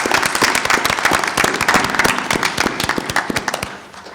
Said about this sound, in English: Let's give Jeffrey a round of applause.